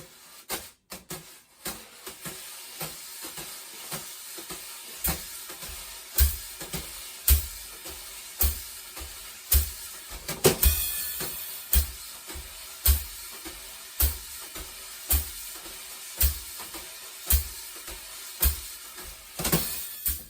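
Wire drum brushes stir in a continuous circular swish across the top of a wooden box, punctuated by steady, evenly spaced taps that keep a regular pulse, close and fairly soft, with no talking.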